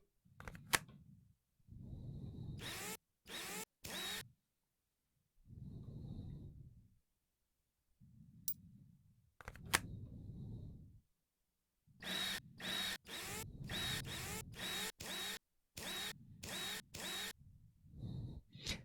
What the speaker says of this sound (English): Pneumatic drill like this.